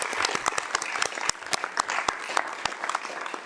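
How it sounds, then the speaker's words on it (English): Audience applause at a Board of Administration meeting, given for Jagmeet: a brief, steady round of clapping from a modest crowd with sharp individual claps standing out, moderately loud and close. "let's just do a quick round of applause for Jagmeet"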